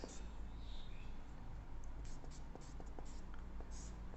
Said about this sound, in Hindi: तो हम लिखेंगे, क्या लिखेंगे